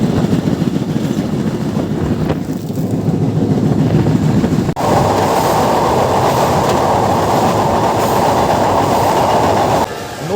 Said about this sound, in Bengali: এবার কি আমাদের ট্রেন সত্যি সত্যি ছাড়লো আমার কিন্তু বিশ্বাস হচ্ছে না।